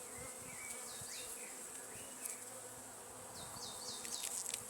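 A honeybee colony in an open hive hums steadily and densely, a continuous close buzz with a few higher passing tones over it, no voices present.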